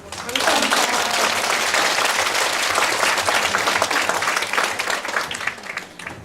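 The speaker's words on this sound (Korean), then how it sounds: "여러분 뜨거운 박수 한 번 더 부탁드립니다." Sustained audience applause fills a hall at a Korean flower-arranging association's general meeting and officer inauguration, loud and steady clapping from many hands throughout, with a faint voice briefly audible underneath.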